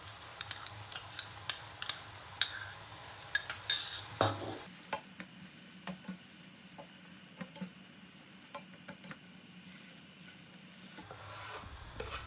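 Meat for Thai pad krapow fries in a pan, first with a quick run of sharp spatula taps and scrapes, then settling into a quieter steady sizzle with occasional clicks, close by, no talking.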